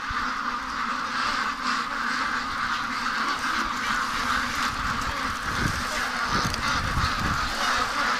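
Several ducks quack and honk continuously nearby on a wet, rainy day, a busy overlapping chorus of calls over a steady background.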